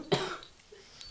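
A single sharp cough bursts close into a microphone, followed by a faint throaty trailing sound and a brief small noise near the end.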